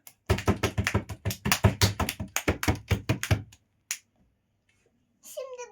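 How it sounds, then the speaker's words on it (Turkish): Close, rapid hand claps at home, a quick burst of about a dozen sharp smacks applauding a girl named Ecrin, then near silence before a voice briefly starts speaking. "Alkış Ecrin'e."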